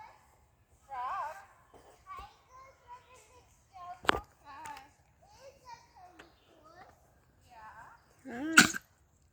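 A sharp, loud sneeze bursts out near the end, following a stretch of quiet children's and adult chatter with a few softer vocal noises.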